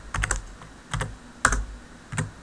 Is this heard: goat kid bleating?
no